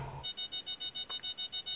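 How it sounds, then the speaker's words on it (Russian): An alarm clock rings at 3 a.m. in an animated Murder Drones episode, a rapid regular series of about ten short electronic beeps after a brief low sound at the start. "Нормально, будильник"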